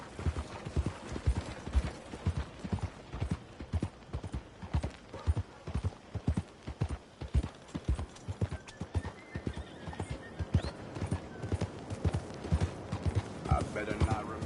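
Steady clip-clop of horse hooves trotting along in a video game, with a whinny partway through and faint mechanical clicking in the background.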